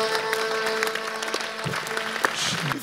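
A church congregation claps in brief scattered bursts over a steady background drone and low murmur, fairly faint and loose rather than a sustained ovation.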